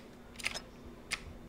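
Weapon reload in PUBG Battlegrounds on PC, two quiet, crisp mechanical clicks about half a second apart over faint background hum.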